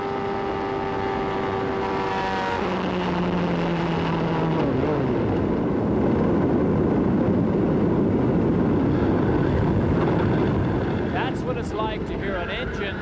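A 1994 IndyCar engine at Michigan International Speedway fails mid-race. Steady high-pitched engine tones drop and break down into a harsh, rough roar that keeps going, with a commentator talking over it.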